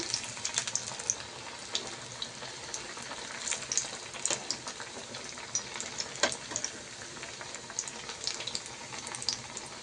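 Banana flower vadas deep-fry in hot oil with a continuous crackling, bubbling sizzle and scattered sharp pops, close and steady with no talk.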